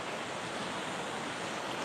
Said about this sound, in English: So here's this waterfall. I don't know if you can hear it in the background